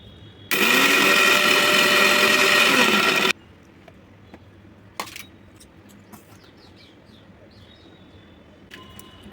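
Sugar being ground in an electric mixer grinder, a loud whirring roar of about three seconds that cuts off sharply, followed by a few knocks and light rattles of the jar.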